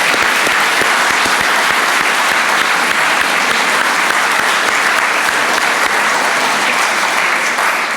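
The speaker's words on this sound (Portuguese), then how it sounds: "Portanto, uma salva de palmas ao Chega." Sustained, dense applause from an audience filling a packed hall at a Chega party political meeting in Odivelas, steady and loud throughout with no voices standing out.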